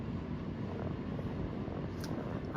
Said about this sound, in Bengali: পুরো এসি হাওয়া দিচ্ছে এখন